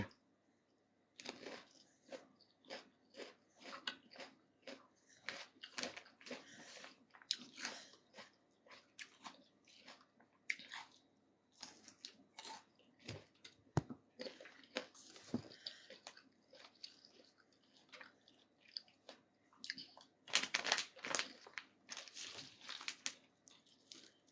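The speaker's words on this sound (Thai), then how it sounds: "กินไปเลย" Someone eating food up close, with irregular crunchy bites and chewing interspersed with soft crinkling, quiet and intimate, and no talking.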